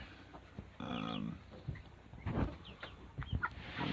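Chickens clucking on a farm, among them a black barred rock and some brown-and-white hens of unknown breed, with a few bursts of calls and scattered clucks close by and no talk.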